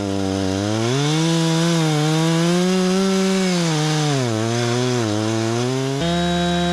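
Stihl 036 chainsaw cutting wood outdoors, its engine snarling loudly and steadily, pitch dipping and rising as the chain bites into the log, then dropping to idle at the end.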